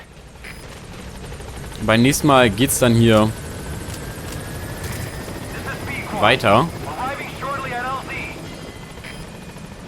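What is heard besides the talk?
helicopter called in, from video game Metal Gear Solid 5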